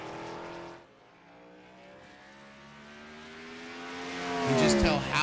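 Race car on the Mid-Ohio circuit during a Top Tier Racing event, its engine drone shifting pitch and swelling louder as it nears, with a sharp rise at the end.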